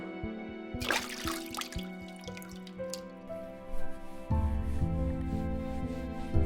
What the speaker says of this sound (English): She splashes cold water on her face and rubs at it with a towel.